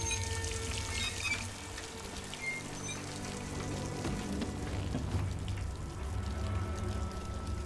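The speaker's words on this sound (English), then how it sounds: "I'm so glad drinking sewage water just heals me." Water gushes and splashes steadily in a Dishonored sewer as the player character drinks sewage water, a continuous pouring rush with a faint low hum and no voices.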